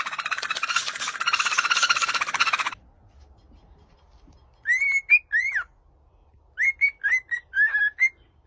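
A pet bird whistles loudly in a long warbling burst, then after a quiet pause gives a series of short rising whistled notes in two clusters, close to the microphone with no talking.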